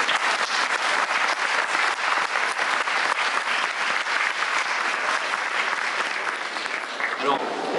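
Sustained audience applause fills a conference hall at a video game convention, loud and dense for nearly eight seconds before starting to thin out near the end.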